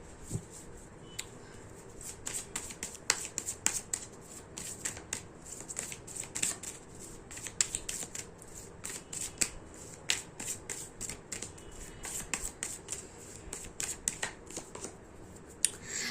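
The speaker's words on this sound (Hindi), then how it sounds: "कार्ड्स को थोड़ी सी शफल करने की ज़रूरत है" Tarot cards being shuffled by hand, a continuous stream of close, crisp slapping and riffling clicks that runs for many seconds with a steady hiss underneath and no voice.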